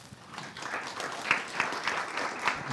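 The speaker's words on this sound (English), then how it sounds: "Blessed, a round of applause for him." Steady applause from an audience at a student union election question time, moderately loud and continuous throughout, with a few sharper individual claps standing out.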